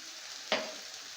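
Onion, ginger, garlic and coriander powder frying for dahi katla, a faint steady sizzle broken by one sharp louder hiss burst partway through, close up, no talk.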